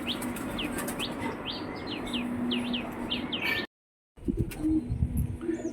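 Saharanpuri and Madras pigeons at a loft give a run of short repeated chirps with some low cooing over steady background noise. A brief moment of silence follows, then fainter bird sounds.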